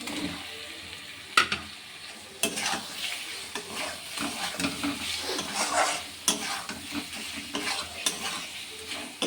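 Eggs stirred and frying in a spiced egg curry masala: a steady close sizzle with repeated scraping strokes of a spoon against the pan, no voices.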